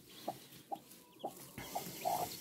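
Hens and small chicks clucking inside a coop at autumn time, a series of short, close clucks and peeps roughly every half second, rising slightly louder toward the end.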